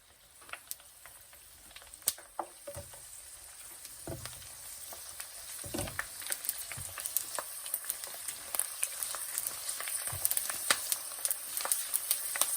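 Pork skin for pork chips frying in oil gives off a steady crackling sizzle, dense with sharp pops and spits that grow busier over time, with no voices.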